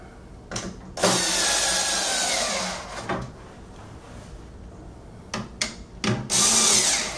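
Short bursts of a power drill driving screws into an IKEA Malm high bed, several brief whirring runs separated by pauses and small knocks, close and fairly loud with no voices.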